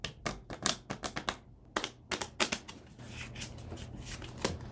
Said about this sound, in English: Some shuffling card ASMR.